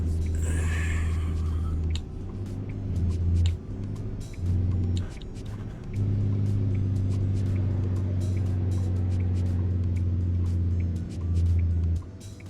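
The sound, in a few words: truck engine driving in a video game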